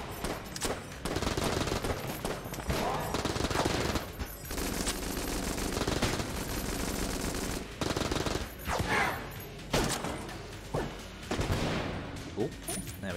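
Rapid automatic AK rifle fire in the video game Enter the Gungeon, loud dense bursts of gunfire broken by brief gaps, with game effects and someone talking over the shooting.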